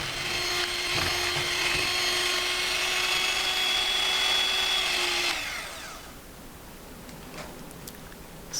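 A stand mixer whirs at medium-high speed, blending sweet potato pie filling with flour. The steady, close motor whine runs for about five seconds, then cuts off, leaving only quiet room tone.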